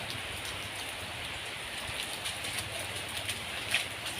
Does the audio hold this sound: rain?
yes